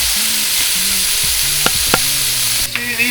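Honey and soy chicken stir fry crackles loudly in a hot pan, a dense continuous sizzle with a few sharp clicks and scrapes of a utensil near the end, up close and with no voices.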